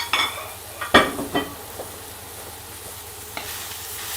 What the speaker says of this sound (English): and we'll get all of this frying